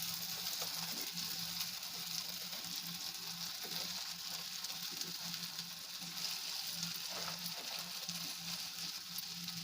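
Okra sizzles and fries in hot oil with tomatoes in a pan: a steady, close, even crackle with faint stirring scrapes, no voices.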